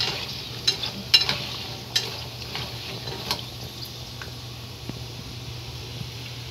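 Pork skin frying in a pan and being stirred, a steady soft sizzle with scattered clicks and scrapes of the utensil, near and alone without talk.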